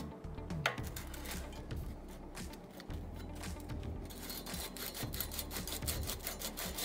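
Steady back-and-forth rasping of sandpaper on a carbon bike frame, continuous light scraping strokes up close with no talking.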